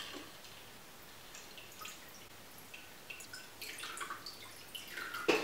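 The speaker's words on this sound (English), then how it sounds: "Whatever you've got left, pour it into your jug" Leftover champagne cocktail mixture is poured from a shaker into a jug in a home kitchen, giving faint, soft trickling and dripping that grows into a brief louder splash near the end.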